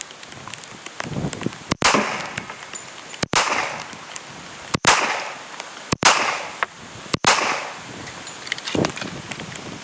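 Five sharp gunshots from 230 grain lead round nose reloaded bullets crack out at irregular intervals, each a loud abrupt bang with a brief ringing decay, separated by quieter outdoor ambience.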